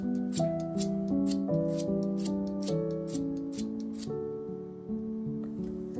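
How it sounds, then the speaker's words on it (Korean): A metal file rasps against a stainless steel scissor blade in steady, forceful strokes, about a dozen evenly spaced scrapes, heard under loud background music. "반대쪽 가위 날도 바깥쪽만 가위 날 각도대로 줄을 사선으로 대고 이렇게 힘있게 갈아주세요"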